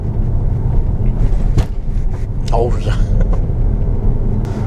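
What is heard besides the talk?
Jeep Renegade driving over speed bumps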